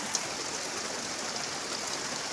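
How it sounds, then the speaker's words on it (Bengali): Dense, steady hiss of heavy rain pouring down, an unbroken wash of noise with no voices and no pauses. "প্রচণ্ড বৃষ্টি হচ্ছে দেখতে পাচ্ছ"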